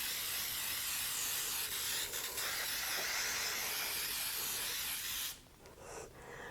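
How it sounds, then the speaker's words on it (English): Nonstick cooking spray with flour mixed in, hissing onto a 9x13 baking dish in a steady, close, loud burst for about five seconds before cutting off into quiet room tone. "I'm going to spray my 9x13 baking dish with some nonstick cooking spray"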